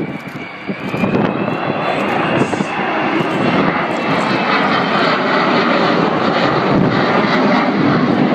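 Avro Vulcan XH558, a 55-year-old restored delta-wing bomber, roaring loudly and steadily through a flying display, a continuous broad jet rumble that swells after the first second and holds at close range.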